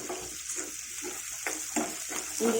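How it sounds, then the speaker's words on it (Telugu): Onions frying in a pan while cooking rice, a steady close sizzle with broadband crackle and occasional louder spits, heard alone with no talk. "కొంచెం వేగాలండి."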